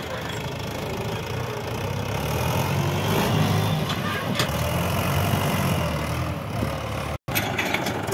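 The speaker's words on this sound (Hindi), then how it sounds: "तो काफ़ी अच्छा साउंड है ट्रैक्टर का, ज़्यादा आवाज़ नहीं कर रहा है ट्रैक्टर।" Mahindra 575 XP Plus tractor engine running steadily at a low, even idle-like rumble, fairly close and continuous, with a brief dropout near the end; faint background noise but no clear talk.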